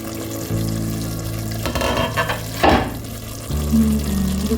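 Bolognese sauce simmering and sizzling in a pan, a steady close bubbling hiss with a brief stir or scrape partway through and a low hum beneath.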